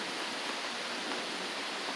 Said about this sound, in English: 2024 and we're getting a well-deserved rain